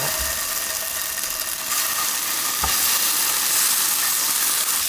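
Sliced tofu cooks in a preheated pan with no oil, giving a loud, continuous sizzling hiss that swells slightly partway through.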